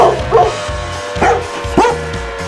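Dogs bark in a few separate bursts, three or so sharp yips spaced apart over a steady low background hum.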